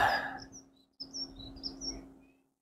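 A small bird gives a short series of high, thin chirps and tweets outdoors, faint and somewhat distant, after a brief burst of rustling at the start.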